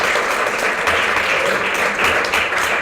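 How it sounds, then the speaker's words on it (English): Loud, sustained applause fills a lecture hall as the audience claps for standing staff members, a thick unbroken roar of many hands close by. "Okay, give them a round of applause."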